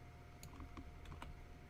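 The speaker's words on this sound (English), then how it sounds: "someone else is typing" Someone types on a computer keyboard: a quiet, irregular patter of individual key clicks, faint and alone, with about half a dozen strokes in a short burst.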